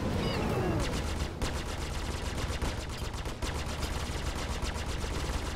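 Rapid automatic gunfire in the space combat game Star Citizen, dense repeated bursts of sharp shots rattling steadily throughout with brief gaps, moderately loud over a low background rumble.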